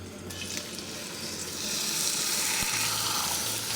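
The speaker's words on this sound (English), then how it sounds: "we don't want a small sizzle. We want an outright smoke show." Loud, steady crackling sizzle of food laid skin side down frying in hot oil in a pan, swelling partway through as it intensifies, with no talking.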